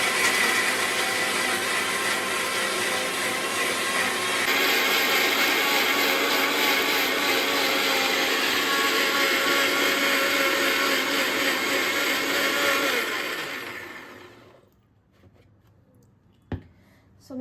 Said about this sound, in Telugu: మిక్సీ చేసేస్తాను.